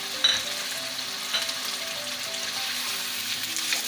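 Chicken with ginger-garlic paste sizzles and crackles steadily in a hot karahi pan, with occasional scraping stirs, close and continuous.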